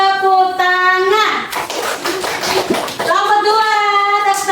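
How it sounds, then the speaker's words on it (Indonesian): Children in a classroom clap their hands together in a short burst of applause, framed by sung or chanted voices before and after. "Kita bertepuk tangan."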